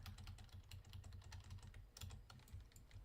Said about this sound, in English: I think my keyboard's going out because my shift just isn't working very much